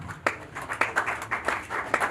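An audience claps at a graduation and eLearning launch ceremony, a short burst of scattered, uneven hand claps heard fairly close.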